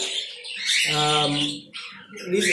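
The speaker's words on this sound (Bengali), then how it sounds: "এইখানে পুরো ফুললি অ্যাডাল্ট লাভ বার্ড আছে" Adult lovebirds at a bird market squawk loudly and close by, one harsh drawn-out call followed by shorter chirps and screeches from several birds.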